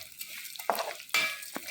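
Vermicelli fries and is stirred in a pan, quiet sizzling broken by a few sharp scrapes and clinks of the spoon against the pan, heard close with no talking.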